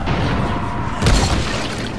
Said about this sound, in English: that big explosion caused a main chain reaction from now to the end of this video